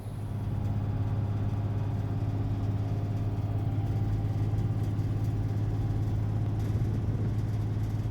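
A bus engine on a countryside route in Hokkaido, Japan hums at a low, steady drone for the whole stretch, heard from inside with no talk.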